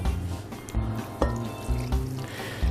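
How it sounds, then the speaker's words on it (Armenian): Boiling water poured from above over raw liver in a bowl, a steady splashing, gurgling pour with a few brief breaks, close and fairly loud with no voices. "լյարդը գցում ենք սիրելի ամանի մեջ, եռացրած ջուր ենք լցնում վրան"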